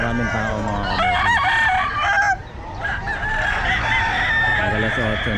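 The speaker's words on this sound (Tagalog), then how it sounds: "Maraming manok, maraming tao mga kabossing." Several roosters crow one after another amid constant clucking from many chickens at the Bocaue pet market, with background chatter from people nearby.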